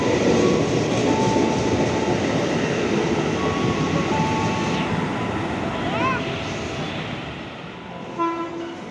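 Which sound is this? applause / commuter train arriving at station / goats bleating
commuter train arriving at station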